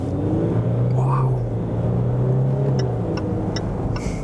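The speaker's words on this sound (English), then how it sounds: "That is really a lot of fun to accelerate this diesel." A Range Rover Velar diesel engine accelerates hard from a traffic light, its low drone rising steadily in pitch up close, with faint clicks and brief murmuring over it.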